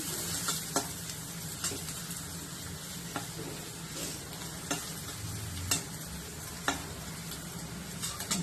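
Onions sizzle steadily in a pan for a veggie frankie filling, with a soft continuous hiss broken by sharp, regular clicks of a utensil stirring against the pan about once a second.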